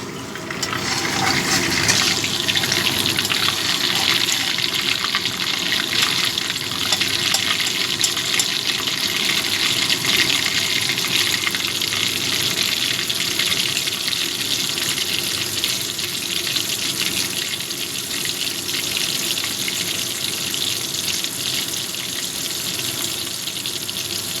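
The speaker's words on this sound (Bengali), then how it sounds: "এবার ওই একই তেলের মধ্যে দিয়ে দিচ্ছি পাঁচফোড়ন ফোড়নটা একটু ভেজে নেবো" Panch phoron five-spice frying in oil in a pan, a steady dense sizzle and crackle of hot oil that keeps at an even level for the whole stretch, with no one talking.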